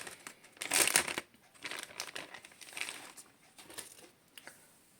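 Crinkly plastic packaging being handled and opened for a hair styling brush, with one loud rustle burst near the start followed by softer, intermittent crinkles, close and with no voices.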